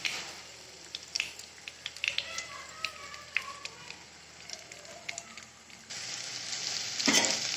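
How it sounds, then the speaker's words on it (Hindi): Dahi kebabs frying in hot oil, a steady sizzle with scattered crackling pops, close and moderately loud, growing a little louder toward the end. "अब हम इसमें कबाब को डाल देंगे"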